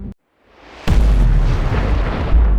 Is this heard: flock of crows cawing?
no